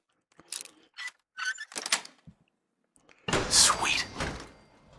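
A door in Fallout 4 opens in the game with mechanical clunks and a sliding rumble. A burst of clatter and whoosh follows, loud and close, after scattered small thumps.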